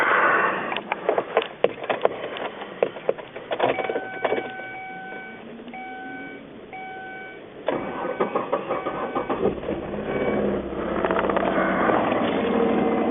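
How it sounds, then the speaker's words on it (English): A 2002 Mazda Tribute engine turns over after a fuel pump replacement: rapid clicking and rattling cranking at first, then a steady running drone with a faint whine, close and continuous. "So there the vehicle is running now."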